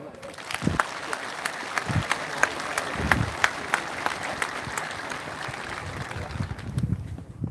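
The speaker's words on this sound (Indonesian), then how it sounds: "Ya, tepuk tangan dulu." An audience at a military gathering gives sustained applause, a steady patter of many hands clapping from a moderate distance, with some low thumps and rumbles underneath.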